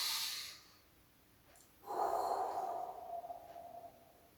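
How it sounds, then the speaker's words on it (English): Deep breaths drawn in through the nose and released out through the mouth during a breathing exercise, a short airy nasal inhale followed after a pause by a longer, louder breathy exhale, close to the microphone. "Take few deep breath through your nose and out through your mouth to get started."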